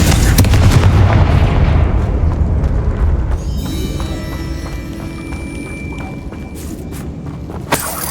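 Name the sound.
Confringo explosive curse blast in the video game Hogwarts Legacy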